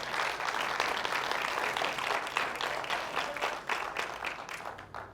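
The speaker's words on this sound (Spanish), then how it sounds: "Den un fuerte aplauso al Rey" A church congregation applauds steadily for about five seconds, a dense, even wash of many hands clapping at moderate distance, with no talk over it.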